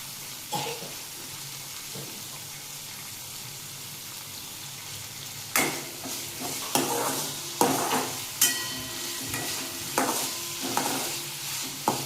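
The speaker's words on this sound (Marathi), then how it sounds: "तेलामध्ये थोडं परतून घेतल्यानंतर त्यामध्ये टाकायचं आहे मीठ" Val bean pods sautéing in oil in a pan: a soft, continuous sizzle, then a run of close scraping stirs in quick irregular strokes through the second half.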